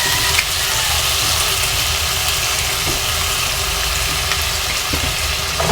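Bitter melon and shrimp fry in a hot pan as fish sauce is added, giving a loud, steady, close sizzle that holds without a break from start to finish.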